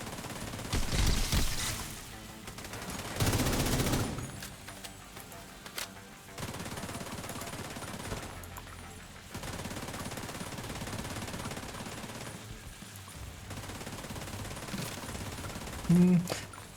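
Rapid gunfire rattles through a video game firefight, with repeated bursts of automatic shots and scattered single reports rising and falling over a steady background of in-game noise.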